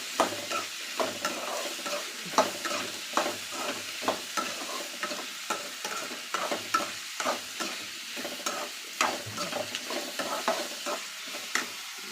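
Vegetables sautéed with salt for a fish curry, stirred in a pan with repeated scraping strokes at a steady rhythm over a soft frying sizzle, close and moderately loud with no voices.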